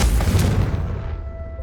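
Confringo fire-blast spell in the video game Hogwarts Legacy, a heavy booming explosion with a sharp burst that rumbles and fades over about a second.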